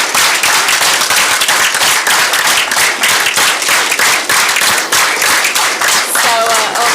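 Dense, steady applause from an audience at a panel debate fills the room for several seconds, many hands clapping at once with a faint voice near the end.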